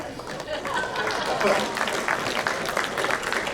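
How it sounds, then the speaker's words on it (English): Audience members at a mayoral candidates' forum give a short burst of scattered clapping, modest and a little distant, with chatter and voices mixed in. "Well, that's a clap for nothing"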